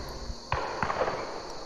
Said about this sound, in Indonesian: Tak lama mereka mendengar sebuah tembakan